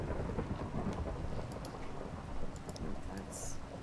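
Rain and thunder in the modded Minecraft pack SevTech Ages make a steady hiss of rainfall under a low, rolling thunder rumble that swells and fades, fairly quiet throughout.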